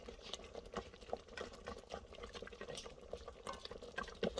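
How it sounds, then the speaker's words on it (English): Frozen lamb simmers in an Instant Pot with faint, continuous bubbling and light irregular pattering, quiet and close, with no talking. "kind of simmer a little bit"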